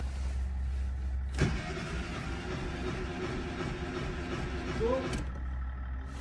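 A car power window motor whirs steadily at close range, starting and stopping with a clunk at each end.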